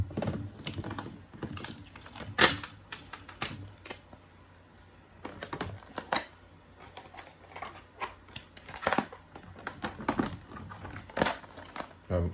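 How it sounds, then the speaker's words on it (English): Cards riffle and snap in quick irregular bursts, shuffled repeatedly up close with soft clicks and flutters between them. "Shuffle all these decks."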